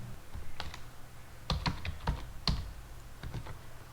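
Close keystrokes on a computer keyboard while a simple C program is written, coming in irregular bursts of quick clicks with short pauses between them.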